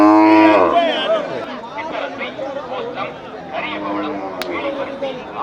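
Cattle low at the Melapalayam cattle market, with one long, loud moo at the start and more lowing and market chatter under a voice.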